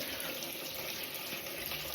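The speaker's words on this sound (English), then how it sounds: "let's see if I can run the water trough, get that bowl filled up" A tap runs water into a bowl, a steady close hiss and splash that stays even for two seconds, with no talk.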